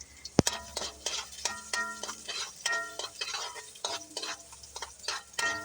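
Garlic frying in oil while a spoon clinks and scrapes the pan in a quick uneven rhythm, one sharp knock near the start, light sizzle beneath and no voices.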